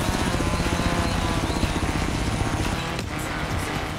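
A helicopter flying close by during a race, its rotor chop pulsing loudly and rhythmically over a broad engine roar that holds steady throughout.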